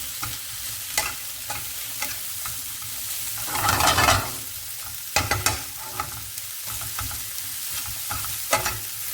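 Sausage fried rice fries in sausage fat and a little butter, sizzling steadily up close while a spoon scrapes and stirs the pan in repeated sharp strokes.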